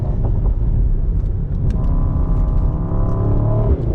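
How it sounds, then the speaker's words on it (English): Exhaust note of a new Mercedes-AMG GT with a twin-turbo engine, a deep, loud rumbling drone that builds into a steadier revving tone, heard alone and up close. "And the exhaust sounds better than before too."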